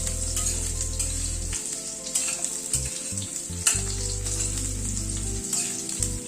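Potatoes lightly frying in a pan make a continuous close sizzle, with rhythmic stirring scrapes and clatters repeating throughout and no talking.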